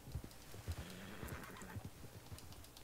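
A horse in Red Dead Online clip-clops along at pace with a neigh in the middle, hoofbeats thudding quietly under soft game ambience.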